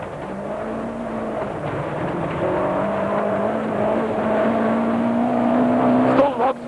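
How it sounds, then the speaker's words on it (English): Rally car engine heard from inside the cabin of a Ford during a 1992 Sasol 400 Rally special stage, a steady loud drone with rising pitch as it accelerates, alone without talk, ending with a brief bump. "So it's to Johnny Hubig we look for our next in-car ride"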